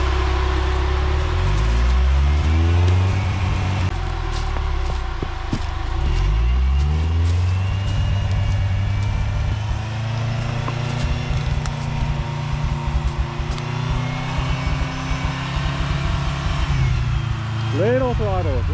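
A 1985 Toyota rock crawler working a trail, its engine idling and revving in slow rising sweeps under steady nearby talk, with scraping and clunks throughout.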